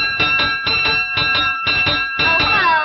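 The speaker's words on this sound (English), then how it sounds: "Ring for Miss Gupp." An electric bell rung in short repeated bursts in a 1934 comedy short, six clear rings in a steady rhythm, loud and close with nothing else heard.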